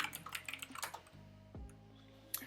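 Computer keyboard keys click in a quick, uneven burst of light taps at close range, then pause, with a single sharper click near the end.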